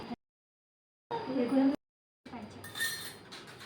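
A German silver panchapatra vessel and plate clink together in short metallic bursts separated by silence, bright close chinks and rattles, with a voice speaking nearby.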